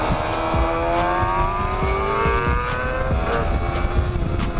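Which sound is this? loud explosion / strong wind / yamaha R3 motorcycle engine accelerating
yamaha R3 motorcycle engine accelerating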